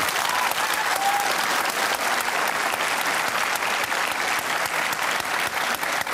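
Audience of school students applauds a question on same-sex marriage at a televised panel discussion in Victoria, with loud, dense, steady clapping that fills the room for several seconds.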